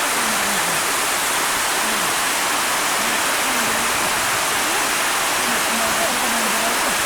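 Waterfall on a mountain descent trail at Myeongseongsan, Pocheon, with clear water pouring over rocks into a valley stream, a steady close broadband rush filling the whole stretch, while a voice talks faintly underneath.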